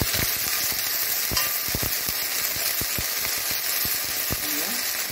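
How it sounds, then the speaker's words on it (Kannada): Ginger garlic paste fries in hot ghee in a pan for paneer masala, giving a loud, dense, continuous sizzle close to the microphone. Quick scraping stirs tick and knock through the hiss. "ಅಷ್ಟೊತ್ತಿಗೆ ಒಂದು ಅರ್ಧ ಸ್ಪೂನಿನಷ್ಟು ಜಿಂಜರ್ ಗಾರ್ಲಿಕ್ ಪೇಸ್ಟನ್ನು ಹಾಕೊಳ್ತಿದ್ದೇನೆ ನಾನು."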